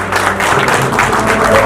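Audience applause at a DJ equipment expo, a dense continuous wash of many hands clapping, loud and steady, with crowd noise mixed in.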